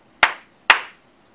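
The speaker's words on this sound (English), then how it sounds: "we give two claps" Two sharp hand claps, spaced about half a second apart, close and crisp in a quiet room, each with a short decaying tail.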